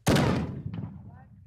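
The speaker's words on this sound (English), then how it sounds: "It's a very loud, deep bang, which you don't get from firecrackers." A single loud, deep bang from carbide shooting with milk cans in the Netherlands, a sharp boom with a rumbling decay and a faint echo trailing off over about a second.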